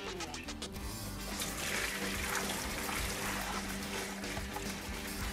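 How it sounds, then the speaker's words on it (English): Whole potatoes are washed under running water from a tap, a steady close splashing rush that stays even throughout with faint background tones. "I'm going to wash them first to remove any possible residue on them."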